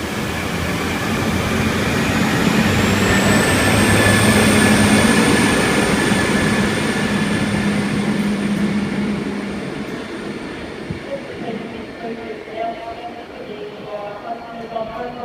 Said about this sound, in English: Hunterset J1 now departing platform 2.